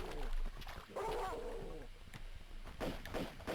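Dogs in Tomb Raider II giving snarling barks and yelps amid game noise, with someone talking over parts of it.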